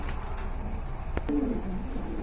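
Afsan grizzle pigeons coo, soft rolling calls rising briefly over a steady low background rumble, close and moderately loud.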